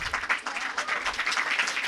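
Audience clapping at a book launch event in a hall as a poet is welcomed to the stage, a short burst of dense, steady applause from many hands.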